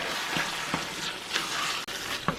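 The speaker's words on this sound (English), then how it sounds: "Go ahead and throw in a can of Bush's baked beans. Give those a nice stir." A can of Bush's baked beans is stirred into a sizzling meat mixture in a cast iron pot. Steady close frying hiss with regular scraping strokes of the spoon cutting through.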